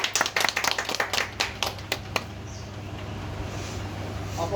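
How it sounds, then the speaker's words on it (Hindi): A small group of people claps at a local farmers' union political gathering in India, a burst of sharp irregular claps for about two seconds that then stops, leaving low background hum. "तालियां बजाओ, तालियां बजाओ।"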